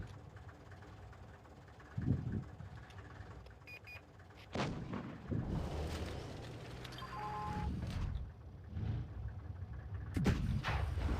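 Tank cannon fire booms in World of Tanks Blitz amid battle noise, a few heavy blasts at about 2, 4.5 and 10 seconds followed by rumbling engine and ambient sounds.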